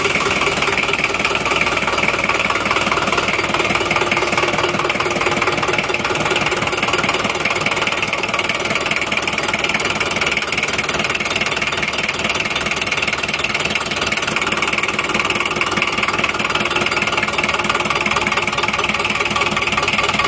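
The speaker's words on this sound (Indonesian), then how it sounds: "Suara mesinnya." Daihatsu Taft GT engine idling, heard up close as a steady, loud, continuous chugging with a slightly rough, knocking rhythm throughout, no voices.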